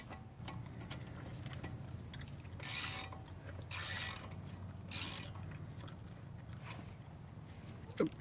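Three brief bursts of ratchet clicking as a brake caliper bolt is snugged up on a 2011 Lincoln MKX during a front brake replacement, each a short steady rattle over a low background hum, close and fairly loud.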